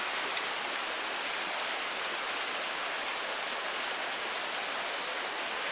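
A river running through the middle of a small Alaskan town, heard as a steady, dense rush of flowing water that holds an even level throughout with no voices.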